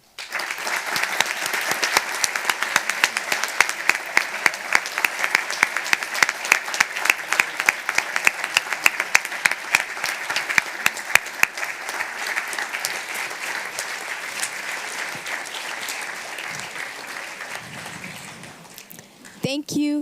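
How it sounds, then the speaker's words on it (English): Sustained audience applause for Model UN committee delegates at a closing ceremony, dense and steady for most of the stretch before thinning out near the end, with a brief voice coming in at the close. "This applause is for you."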